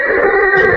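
A horse gives a loud, close whinny, one sustained neigh that wavers in pitch and stands alone without speech.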